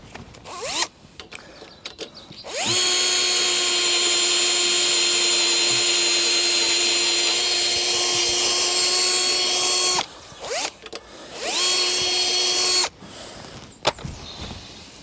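A power drill runs in a long continuous whine for about seven seconds, then in a shorter burst, driving into wooden tunnel framing. It is close and clear, with brief clicks and handling noises between runs.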